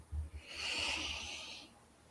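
A slow breath drawn in through the nose, a soft airy hiss that swells and fades over about a second and a half, close but quiet, with no talking.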